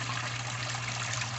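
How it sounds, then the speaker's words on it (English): Water rushes steadily through a newly set up gold prospecting sluice at Indiana Creek. It makes a constant low gush and trickle, fairly quiet, with a steady hum underneath. "It looks like I got a good flow. And nice and level, water's coming out perfect."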